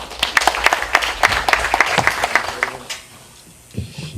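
A small audience claps to welcome a speaker at a civic watchdog training ceremony, distinct rhythmic hand claps for about three seconds that then fade out, followed by a brief quiet moment and a faint low sound.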